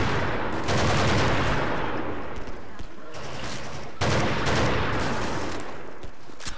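In the Half-Life 2 Triage mod, a high-powered gun with heavy recoil fires dense, loud bursts that run together, with a brief break near the three-second mark before the next volley.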